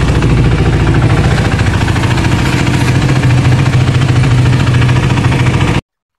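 A new motorcycle fitted with a barrel exhaust idles close by, a steady throbbing engine rumble with even pulsing that runs unbroken for about six seconds before cutting off.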